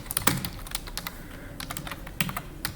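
Clattering keystrokes on a computer keyboard while HTML code is typed, a steady close run of taps with a few louder key hits standing out.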